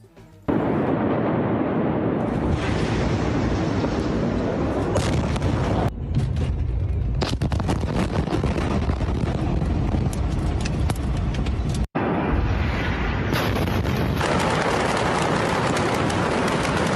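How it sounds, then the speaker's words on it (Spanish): Amateur footage of the massive explosion at the port of Beirut: a loud, sustained roar of blast and rumbling debris that fills the whole stretch, with a sudden brief cut and a renewed wave of noise near the end. "lo que tiene que ver con estas imágenes en el momento en el que sucedía la explosión"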